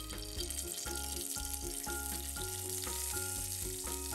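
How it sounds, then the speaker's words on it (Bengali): Dal tempering, a baghar of spices dropped into hot oil, sizzling in a steady, dense hiss that stays loud and even throughout, with no voice over it. "ডাল বাগার দিচ্ছি"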